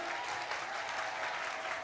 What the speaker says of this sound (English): a hand of applause for our president, please